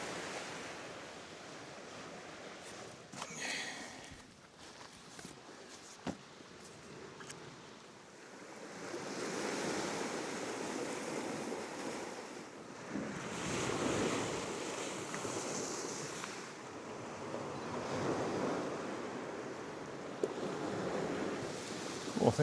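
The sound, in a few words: sea waves washing onto the beach at Ayrmer Cove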